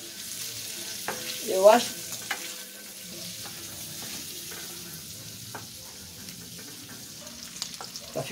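Bacon frying in a pan, a steady close sizzle and crackle that runs throughout, with brief stirring scrapes and a short spoken remark early on.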